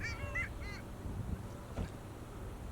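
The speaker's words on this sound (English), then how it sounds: "Excellent spot for long-tailed ducks. In fact, you can probably hear them calling now." Distant nasal calls of long-tailed ducks in winter, a few short yodeling honks near the start, faint over low background rumble.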